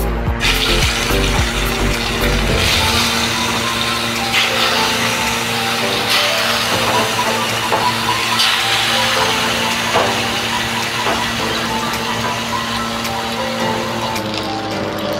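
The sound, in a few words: katla fish frying in hot oil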